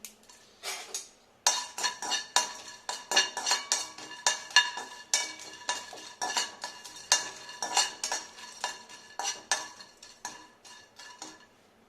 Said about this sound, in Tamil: பட்டை பீஸ் இருக்குல்ல அதுங்களெல்லாம் போட்டு நல்லா ஃப்ரை பண்ணணும்